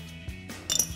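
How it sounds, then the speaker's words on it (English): A short burst of clicking from a ratchet loosening bolts on the bumper of a 2015-2020 Ford F-150 truck, close and clear, ending in a brighter metallic rattle. "impact gun or ratchet, go underneath and take those two bolts out"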